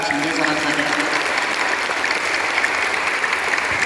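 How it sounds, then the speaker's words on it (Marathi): Steady, dense applause from a gathered audience for the chief guest, Shinde, at a Rotary Club and Shivaji University event in Kolhapur, loud and unbroken throughout with no talk over it. "जरा जोरदार टाळ्या शिंदे सरांसाठी"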